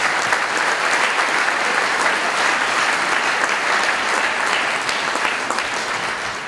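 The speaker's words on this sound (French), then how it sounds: "je crois qu'on peut encore une fois plus applaudir" Sustained audience applause fills a hall at an evening gathering, dense and steady throughout, tapering only slightly at the end.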